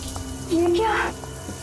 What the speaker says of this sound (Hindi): पानी का नल खुला छोड़ के मम्मी तो ऐसा कभी नहीं करती।